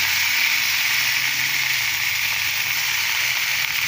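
Coriander leaves sizzle in hot oil with fried urad dal for chutney, a loud, steady, close frying hiss that runs unbroken from start to finish.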